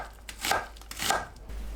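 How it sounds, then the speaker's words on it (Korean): A kitchen knife slices an onion into thin strips on a cutting board, giving two crisp, close chopping strokes about half a second apart, with no talking. "양파를 채 썰어주세요"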